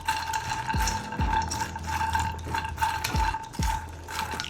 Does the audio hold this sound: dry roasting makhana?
yes